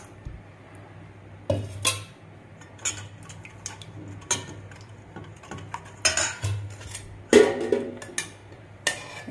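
Curd batter for punugulu is stirred in a bowl, making irregular close clinks and scrapes of a spoon against the bowl over a quiet background.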